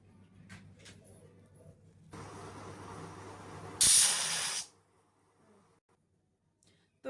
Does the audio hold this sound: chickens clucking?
no